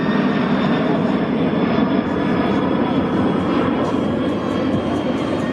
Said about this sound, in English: The minimum radius turn for the C-17 Globemaster III.